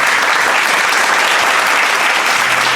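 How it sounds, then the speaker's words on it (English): A resounding round of applause from a school audience at a literary festival, dense, loud, continuous clapping with no pause throughout. "Let's give them a resounding round of applause."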